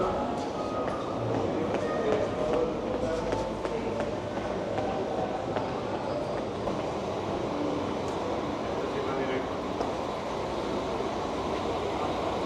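A regional train rumbles steadily nearby at a station platform with broadband mechanical noise and faint clicks, a constant drone with no clear voices.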